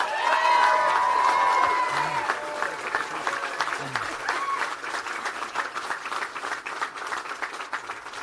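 A large crowd at a Florida political rally for Governor Rick Scott's Senate run applauds and cheers, a dense roar of clapping that starts loud and stays steady, with a voice briefly audible over it.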